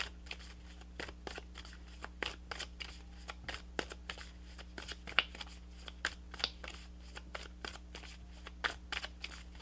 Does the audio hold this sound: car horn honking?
no